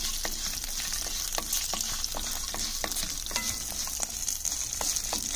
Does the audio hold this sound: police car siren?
no